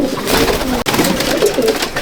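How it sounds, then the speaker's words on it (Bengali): Andhra and Malwai pigeons in a large loft at Subhasgram coo continuously, many birds layering low, burbling calls close up, broken by a brief sharp click midway. "কিছু মাদা পায়রাও দেখাবো"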